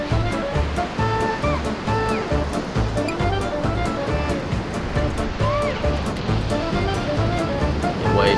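Rushing whitewater roars steadily and loudly at the US National Whitewater Center's artificial rapids, churning continuously for several seconds with no clear break.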